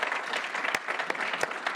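Brief burst of steady crowd applause for a team standing up at a gathering, dense and fairly loud throughout, with a few sharper claps standing out.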